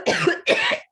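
A person coughs twice in quick succession, two harsh, close bursts of roughly equal length with a short gap between them, no talking around them.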